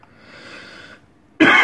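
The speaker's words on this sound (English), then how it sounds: "getting a bit of a cough" A soft wheezy breath, then a single loud, close cough bursts out at the end.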